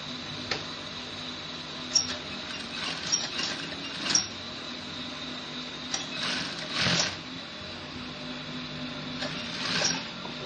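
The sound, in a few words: sewing machine top stitching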